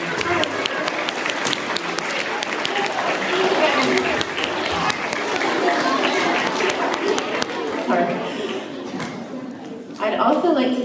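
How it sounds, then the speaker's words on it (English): Audience at an elementary school spelling bee applauds the contestants, steady broad clapping from a crowd with chatter mixed in, before a single voice resumes speaking. "Let's give them a round of applause."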